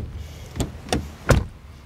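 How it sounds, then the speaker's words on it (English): Three dull thuds of a 2019 Ford Focus Estate door shutting, spaced about a third of a second apart, the last one loudest and closest. "Then door sound."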